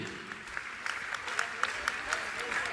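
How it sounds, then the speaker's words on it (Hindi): A gathered crowd at a religious kalash sthapana announcement in Indore claps steadily, with distinct sharp hand claps standing out in an even, moderately distant round of applause. "तालियां बजाइए, तालियां तालियां आपकी बजना चाहिए।"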